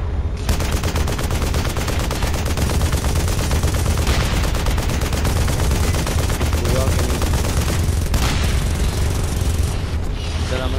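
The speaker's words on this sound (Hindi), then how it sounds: "इधर गोला दागना पड़ेगा" Continuous loud battle gunfire and heavy booms in the video game Frontlines Fuel of War, with tank shell blasts, including a strong one near the end, mixed into a dense, unbroken wall of combat noise.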